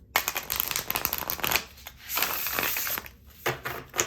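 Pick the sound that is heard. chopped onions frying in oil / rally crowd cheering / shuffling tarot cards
shuffling tarot cards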